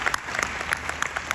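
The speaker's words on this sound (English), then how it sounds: "Let's give them and all of you a round of applause" Audience applause at a realtors conference with about 800 people in the room, heard as a brief burst of mid-level clapping with scattered sharper hand claps standing out.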